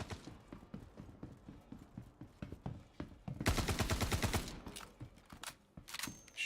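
Gunfire in the Star Citizen video game: rapid bursts of shots rattle out, with a loud dense automatic volley in the middle and scattered single reports before and after, fairly close and heard alone.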